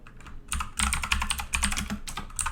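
Keystrokes clatter on a computer keyboard during a coding session, a dense run of quick irregular clicks with brief pauses, close and moderately loud, no voices.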